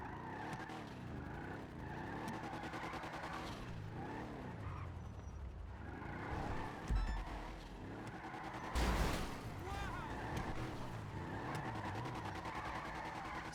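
A car driven in the video game Satisfactory rumbles steadily with tire skidding and squealing, with a couple of louder bumps partway through, at a low, even level with no talk.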